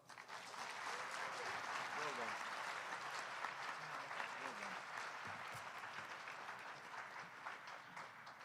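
Graduation ceremony crowd applauding, a dense, steady wash of clapping from a large audience lasting the whole stretch, with a few faint voices mixed in beneath it.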